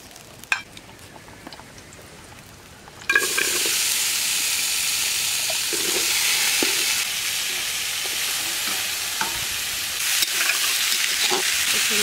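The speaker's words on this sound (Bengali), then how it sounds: "তেল দিয়ে দিচ্ছি, দিয়ে আমি আলুগুলোকে এবার ভেজে নিই।" Potatoes drop into hot oil and break into a loud, steady sizzle after a few quiet seconds of faint kitchen sounds, with occasional stirring clatter over the continuous frying hiss.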